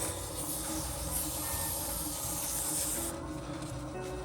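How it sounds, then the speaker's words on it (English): A small pen blank spins while 400-grit wet sandpaper rubs against it, making a soft, continuous hissing scrub under a steady motor hum, with a slight change in tone near the end. "now I'm going to sand this little piece here real quick with some wet sandpaper"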